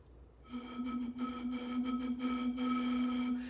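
A steady, hollow tone from air blown across a bottle mouth, holding one low pitch with breathy overtones for about three seconds.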